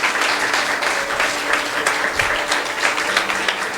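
A church congregation at a Holy Spirit celebration service applauds, a thick, continuous wash of clapping from many hands, filling the room evenly for several seconds.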